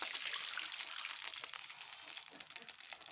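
Water is poured into a cooking pan holding a little oil, producing a steady, fairly faint hissing sizzle that continues throughout.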